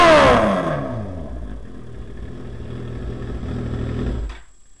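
A 2006 Suzuki GSX-R 1000 with a Hotbodies MotoGP slash cut exhaust falls from a sharp rev into a low, steady burbling idle close to the microphone, with a brief blip near the end.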